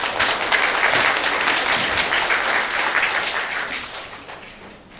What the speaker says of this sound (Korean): 귀한 강연 들려주신 홍 대표님께 다시 한번 박수 부탁드립니다